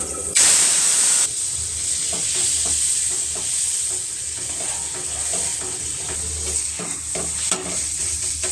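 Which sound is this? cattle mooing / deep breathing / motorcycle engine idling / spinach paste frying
spinach paste frying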